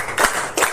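Two sharp hand claps a fraction of a second apart, counted out in a classroom clapping game, clear and close with no talking over them.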